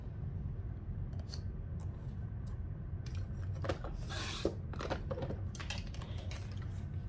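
Paper mat stock is cut to size for a scrapbook layout. A few faint, short scratchy rasps of the cut sound in a quiet room, with no talking.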